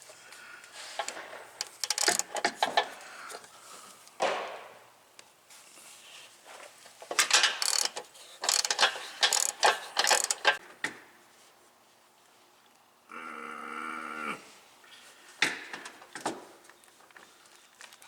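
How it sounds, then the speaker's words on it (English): A ratchet removing nuts from the studs of a Blue Ox tow bar during installation: bursts of rapid clicking and metallic scraping in irregular spurts, close, with a brief whirring stretch in between. "the problem is the ratchet and the teeth on the ratchet"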